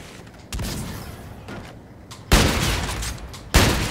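Three heavy gunshots from the TF sniper rifle in Call of Duty: Infinite Warfare, a replica of the MW2 Intervention, boom out at uneven intervals, each sharp crack followed by a short decaying tail over quiet background.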